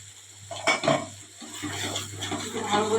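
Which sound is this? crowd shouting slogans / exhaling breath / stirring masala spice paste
stirring masala spice paste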